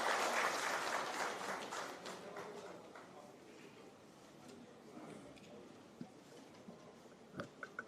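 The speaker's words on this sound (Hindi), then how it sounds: "आइए तालियों के साथ हम इनका भी दोबारा से स्वागत" Audience at a live official meeting clapping to welcome a guest back, a fairly faint patter that fades away after a few seconds, leaving scattered claps and taps.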